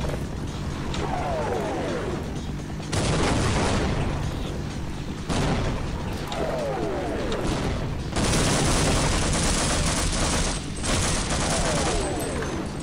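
Repeated bursts of loud, close gunfire and booming blasts in the video game Half-Life, coming in several heavy volleys separated by brief lulls, with rapid overlapping shots and explosive impacts.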